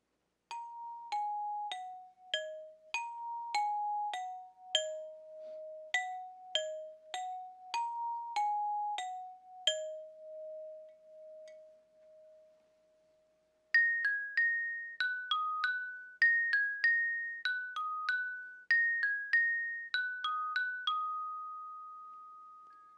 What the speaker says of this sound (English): Since they're metal and not wood, they're called metallophones, and they sound like this.